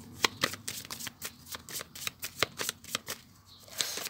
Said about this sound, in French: je vais faire une coupe.